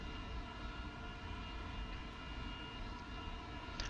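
Engines of an A-10 jet in the War Thunder flight game, a steady loud droning hum with a constant pitch, heard alone without talk for the whole stretch.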